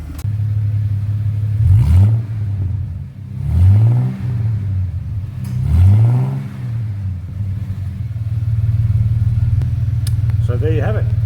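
Ford EL Fairmont engine fitted with a mandrel cat-back sports exhaust, holding a steady deep idle rumble throughout, with someone talking over it in short bursts.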